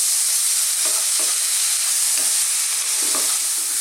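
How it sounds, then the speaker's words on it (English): Onions fry over medium heat with a constant bright sizzle, close by, as a few soft scrapes and stirs of a utensil break through the hiss. No one speaks. "On a medium heat, we're just going to fry these around for like 2 to 3 minutes"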